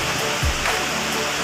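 Loud waterfall at Curug Cipendok in Banyumas, a dense, steady roar of falling water with misty spray filling the whole clip, with a brief low thump near the start.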